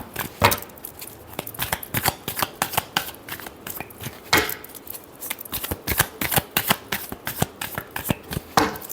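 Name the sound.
tarot cards being shuffled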